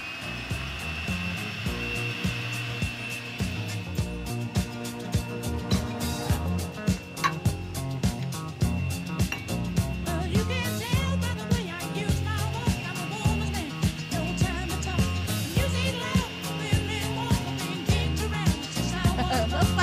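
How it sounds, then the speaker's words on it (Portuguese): An electric mixer whirs steadily as it beats three ingredients into a light cream for a grape cuca, a continuous motor drone with rhythmic rattling throughout. "3 ingredientes na batedeira e sobe o som que vão bater"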